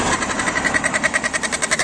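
A motorbike engine idles close by at an outdoor mela, a loud, regular pulsing thrum with a quick steady beat throughout, nobody speaking over it.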